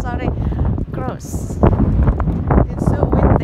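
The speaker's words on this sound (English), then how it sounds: "It's so windy." Strong wind buffeting the microphone on a sunny mountain walk, gusty rumbling bursts mixed with people talking close by.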